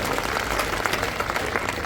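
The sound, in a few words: audience applause for teachers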